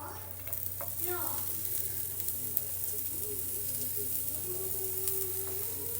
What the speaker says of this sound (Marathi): यात मी आता कांदा टाकणार आहे थोडासा हलका हलका